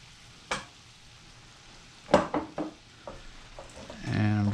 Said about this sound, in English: I'm just going to mix this over low heat until everything is pretty well combined and fairly homogeneous